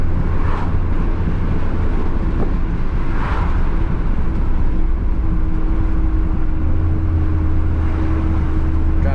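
A truck engine drones loudly and continuously from inside the cab, with road rumble and a couple of brief rattles.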